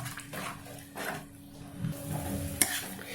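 Gram flour being stirred and turned in ghee in a kadhai over low heat for a milk sweet, with soft scraping strokes and a faint sizzle, steady and close, without any talk.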